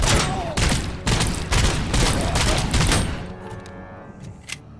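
Loud, close bursts of rapid gunfire from a gun in the RoboCop: Rogue City game, several heavy volleys in quick succession, then tapering off into scattered shots and clanks.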